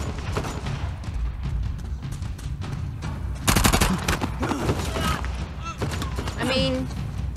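Gunfire in the action game Uncharted: The Lost Legacy, with rapid bursts of shots crackling over continuous game ambience and a loud cluster of shots midway, while a person talks over it.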